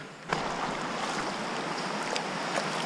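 Creek water rushing and splashing steadily during a creek crossing on a hiking trail at Window Cliffs State Natural Area, a continuous broadband wash, close and fairly loud, with a brief louder splash near the start.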